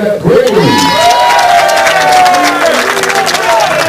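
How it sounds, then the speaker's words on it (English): Crowd applauding and cheering as the players make their entrance to the arena for the women's singles final of the New Zealand Open lawn bowls, a steady wash of clapping and voices with a whistle rising through it. "You see some of the crowd applauding the appearance of the players."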